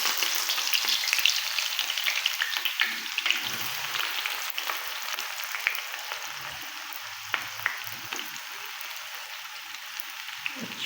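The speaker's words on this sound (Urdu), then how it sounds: "ہم پیاز اس میں ڈال کے لائٹ براؤن کر کے اس کو باہر نکال لیں گے" Onions frying in hot oil for a chana dal lauki gosht dish give a dense, continuous bubbling crackle with scattered pops, close and moderately loud, with no voices.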